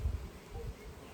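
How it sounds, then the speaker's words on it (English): Honey bees buzzing at a beehive on a hot day, a faint low hum with soft fluctuating drones from nearby bees. "Can you see my little bees working hard?"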